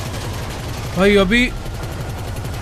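Rapid, steady video-game gunfire aimed at a helicopter rattles on throughout, loud and continuous, while someone briefly speaks over it.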